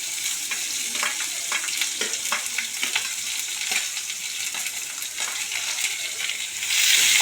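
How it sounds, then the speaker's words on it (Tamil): Shallots and sliced big onions sizzle steadily in oil in a pan for crab thokku, a continuous close crackling hiss with frequent clicks of stirring, growing slightly louder near the end. "நல்லா வதக்கணும். நல்லா பொன்னிறம் ஆகிற வரைக்கும் நல்லா வதக்கிட்டே இருக்கணும்."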